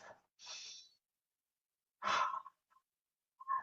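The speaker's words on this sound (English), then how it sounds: "let's take 3 breaths here, in through the nose and out through the mouth" Guided breathing: a sharp nasal inhale followed by a long, soft exhale through the mouth, then another strong breath in with a faint trailing release, close and quiet with silent pauses between.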